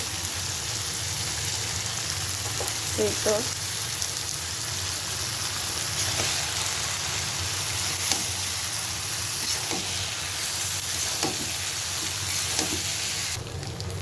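Noodles stir-fried with soy sauce in a pan give a steady broadband sizzle with scattered scraping stirs and clinks. The cooking sound is close and continuous, with no voices.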